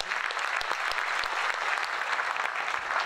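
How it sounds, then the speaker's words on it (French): Crowd at a mayoral New Year's greetings event in Marseille breaks into loud, sustained applause, many hands clapping densely throughout. "et on peut l'applaudir tout fort"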